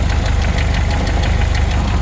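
A 1992 Jeep YJ with a 2.5 engine and 200,000 miles idles close by, a steady low rumble with a quick rhythmic light rattle ticking over it throughout.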